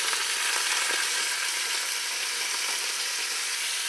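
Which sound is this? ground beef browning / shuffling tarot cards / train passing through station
ground beef browning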